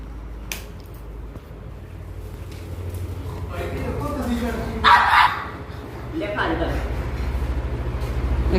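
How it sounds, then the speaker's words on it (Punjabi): A dog barks at a village home, with a short louder burst midway, under ongoing conversation and household background noise. "ਤੇ ਕੁੱਤਾ ਨਹੀਂ ਸੂਤ ਆਉਂਦਾ"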